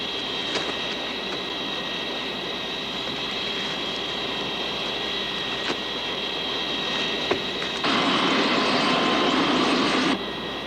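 An aircraft takes off in a 1976 television film, a steady, loud engine roar that swells a little heavier near the end, with no voices.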